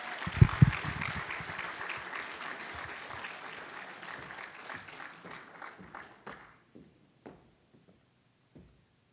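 Audience applause at a university academic affairs fall meeting, starting fairly full then thinning out into scattered individual claps that trail off into near silence by the end.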